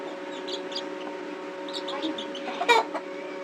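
A black silkie hen and her chicks make soft clucks and short peeps close by, in scattered bursts with a sharper call near the end.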